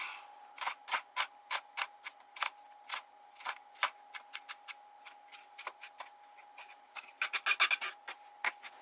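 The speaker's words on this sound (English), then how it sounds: "I am just cutting this up as finely as I can." A knife chops food finely on a cutting board while weekday lunches are prepped, giving a quick series of sharp, close taps in an uneven rhythm that speeds into a rapid flurry near the end.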